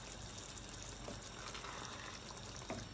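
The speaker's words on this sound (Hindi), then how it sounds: "जी पानी अभी उबल गया" Water boiling in a cooking pot for biryani, a steady bubbling hiss with occasional louder pops and a soft clink, close and fairly quiet with no talking.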